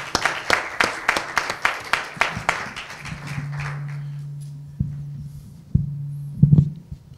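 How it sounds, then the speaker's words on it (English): A church congregation claps in sharp, evenly spaced strikes for a few seconds, then the claps fade into a low steady hum with a few scattered thumps. "Let's give Tim another round of applause."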